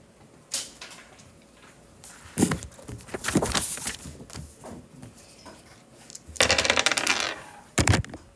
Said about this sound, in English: I'll let my dice of destiny pick the reader.